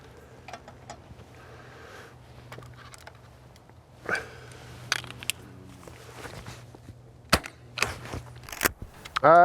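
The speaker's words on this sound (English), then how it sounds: "Just got a little Musberg 410 Hushpower. Shooting some Ely extra long cartridges through it." A Mossberg .410 Hushpower shotgun fires Eley extra-long cartridges at pigeons outdoors, giving several sharp, suppressed cracks spread across the clip, one close and prominent near the end, over a low background hum.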